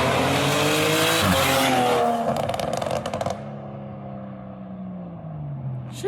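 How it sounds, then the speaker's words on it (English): A car fitted with a new turbo setup roars past up close at high revs, a loud rising engine note with a sharp gear change, then fading into a lower drone as it pulls away. "here's a quick clip for you guys to show you like what it sounded like going past with the new turbo setup"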